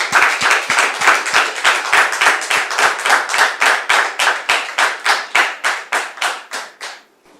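A television studio audience welcomes a guest with rhythmic clapping in unison, about three sharp claps per second, steady and loud for seven seconds before stopping abruptly.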